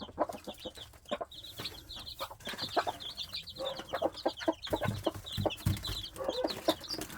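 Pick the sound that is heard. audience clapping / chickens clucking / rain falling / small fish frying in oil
chickens clucking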